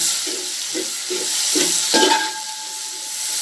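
Sliced onions dropped into hot oil in a pan for chicken curry, giving a steady close sizzle with soft stirring scrapes in a few rhythmic pulses and a brief sharper hiss near the end.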